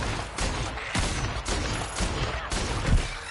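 Bursts of gunfire from a firefight in The Outer Worlds, a volley of loud shots about every half second, dense and close, with no talk over them.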